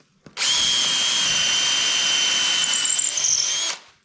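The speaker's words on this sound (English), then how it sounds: "let's put a hole in that guy right about there." A power drill bores a hole into a wooden bowl blank, a loud whining spin lasting about three seconds at close range, with a faint squeal of the bit biting into the wood near the end.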